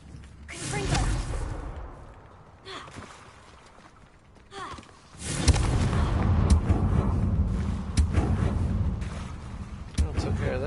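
A Confringo fire spell bursts in the video game Hogwarts Legacy, a loud whooshing blast followed by a long rumbling, crackling explosion; an earlier softer whoosh sounds beforehand, with no talking.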